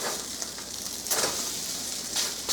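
Lentil burgers sizzle steadily in olive oil in a pan, a close, continuous frying hiss with a few brighter crackling swells and no talking.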